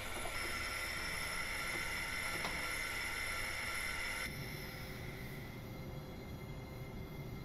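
A REX regional express train runs in Train Simulator Classic, with a steady rumble of wheels on rails and a high squeal from the wheels on curves, continuous and fairly close throughout.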